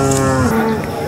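A cow at the Sangola cattle market gives one loud, close, drawn-out moo that fills the whole short moment, with no talking over it.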